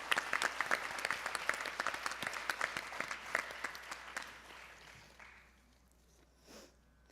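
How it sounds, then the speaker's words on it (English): Scattered claps from an audience at a Bharatanatyam arangetram recital honour the violinist, distinct but fairly quiet and spaced, then dwindling away into near silence by the end. "ladies and gentlemen, a huge round of applause for our violinist"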